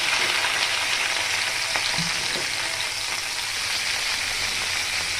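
Okra (bhindi) frying in hot oil before going into a tilapia curry, a constant hissing sizzle that fills the whole stretch, close and even, with a faint stir or two and no talk.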